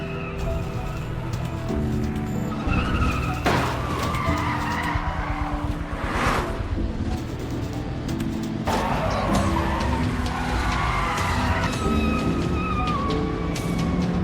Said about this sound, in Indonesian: In-e pun bergegas mengejarnya sampai aksi kejar-kejaran pun terjadi.